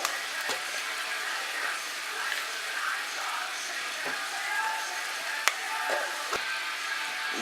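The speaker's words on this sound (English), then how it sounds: "then give it a good stir" Spring onions and a bay leaf sizzle steadily in a cooking pot for tomato-coriander soup, a soft, even frying hiss with a few light clicks as the pot is stirred.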